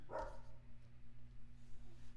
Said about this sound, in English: hopefully the barking will die down shortly.